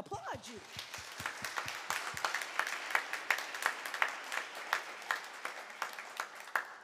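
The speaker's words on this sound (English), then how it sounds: "Give them a hand. I applaud you." Applause at a university chapel service, many hands clapping in a steady, lively rhythm that builds and holds throughout, with voices faintly mixed in.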